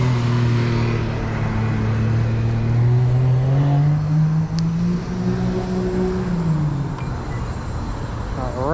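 A car drives past on a suburban road, its engine rumble swelling and shifting pitch as it nears and moves on, loud and steady throughout the whole stretch.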